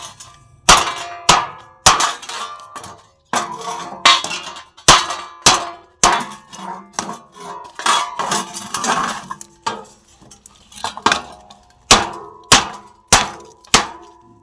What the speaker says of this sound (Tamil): இந்த கேன் உடைக்கிறோம்